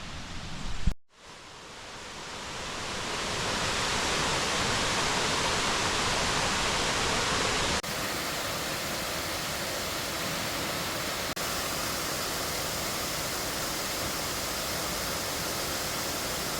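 Brush Creek Falls in Mercer County, West Virginia, a waterfall on a creek, gives a loud, continuous broadband rushing roar after a brief dip at the start, steady and close throughout.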